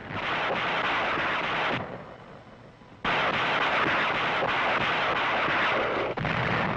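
Rocket and artillery barrages from the Battle of Okinawa, fought near Naha in May 1945, roar as a loud, continuous wall of blasts that drops away briefly, then surges back and keeps pounding.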